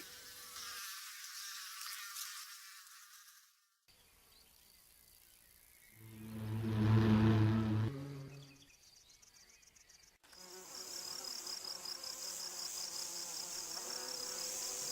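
Flying wasps, bees and bumblebees buzzing in a nature setting, a continuous droning hum that swells loudly as an insect passes close by, then drops back to a steady background whirr.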